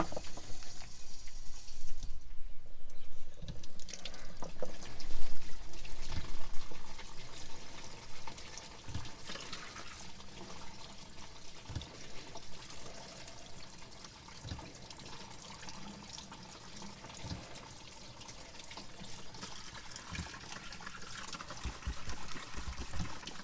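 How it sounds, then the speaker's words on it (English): A tap runs at full flow in a sink while a disc golf disc is being dyed, a steady close splashing rush of water that swells, eases, then continues with small clatters. "We'll turn the water on fully."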